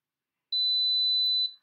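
A single steady electronic beep, about a second long and high-pitched, from an alarm.com ADC-NK-200T dual-path gateway as a Z-Wave device is unpaired, alone in an otherwise silent room.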